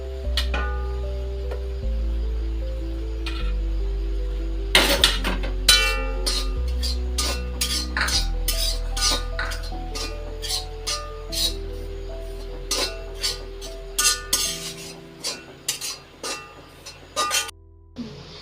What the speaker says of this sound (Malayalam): ചട്ടി ചൂടായി വന്നിട്ടുണ്ട്. ഇനി നമുക്കത് തേങ്ങ ഇതിലിട്ട് കൊടുക്കാം.